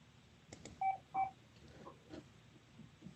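A telephone number is keyed in on a phone during an online meeting, giving a few short, distinct DTMF tones at low volume with brief pauses between them.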